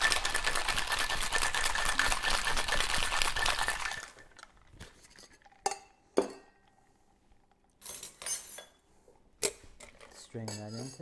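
A cocktail shaker holding an egg-yolk milk drink is shaken hard, giving a dense, rapid rattling rhythm for about four seconds. Scattered lighter clinks and taps follow in near silence.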